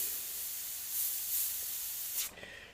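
An airbrush sprays paint onto a Grinch design in a steady close hiss that swells slightly, then cuts off sharply near the end with a softer trailing hiss.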